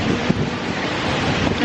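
Steady, rough wind buffeting a microphone outdoors at a water park, filling the whole moment with a continuous close roar and no voices.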